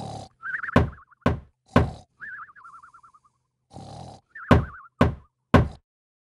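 Several hard knocks pound on a door in irregular bursts, loud and close, broken by short cartoonish boing-like sound effects.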